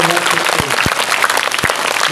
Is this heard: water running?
no